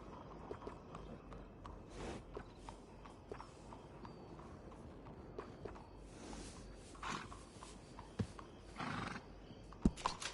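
Horses at a horse trader's in the video game Red Dead Redemption 2: scattered hoof clops and shuffling, with a couple of snorting whinnies rising out of a quiet stable ambience, fairly faint and uneven.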